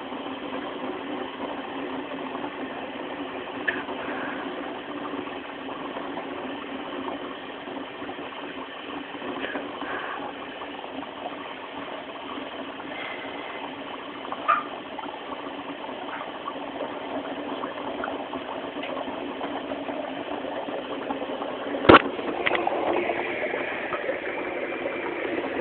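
Dry ice bubbling in hand soap and water as a bubble machine gives a steady, muffled churning burble that runs on without pause, with a few faint clicks and one sharp knock partway through.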